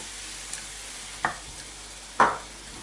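Tomato sauce for a minced-meat crepe dish sizzles softly in a pan as a utensil scrapes and stirs, with two louder stirring strokes standing out above the steady hiss.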